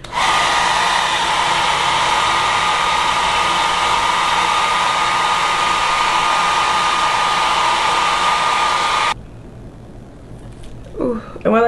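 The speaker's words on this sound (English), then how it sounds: "Spray all the lace down and then go with your blow dryer." Blow dryer drying sprayed-down wig lace, a steady loud close whoosh running unbroken for about nine seconds, then cutting off as a voice begins.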